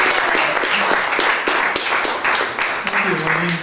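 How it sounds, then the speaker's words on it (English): An audience at an open mic poetry reading breaks into warm, dense applause that fills the room, with a voice starting to speak over the clapping toward the end. "please give him a round of applause"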